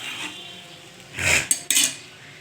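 Rohu fish curry with green mango and kalo jeera being stirred in a pot, a few metallic scrapes and clanks of a spoon against the vessel over a low background hiss, no talking.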